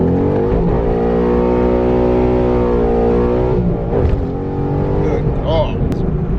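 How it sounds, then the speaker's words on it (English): A tuned, naturally aspirated Ford Boss 302 running E85 with bolt-ons accelerates hard in first gear, its engine note rising in a loud, sustained rev with a brief shift-like dip before climbing again. "First gear hit."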